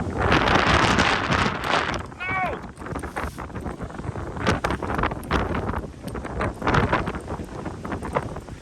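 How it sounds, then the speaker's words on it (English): Strong wind on a mountain buffets the microphone in a continuous, gusty roar, with bursts of rustling and a brief voice partly buried beneath it. "It gets windy now, so hang on a minute"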